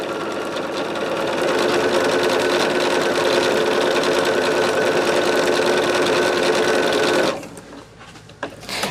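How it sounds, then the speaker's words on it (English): Sewing machine running fast and steady for about seven seconds at close range, then stopping, followed by a few quiet handling clicks. "I was just gonna sew."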